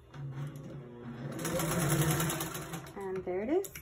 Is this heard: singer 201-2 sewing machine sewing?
yes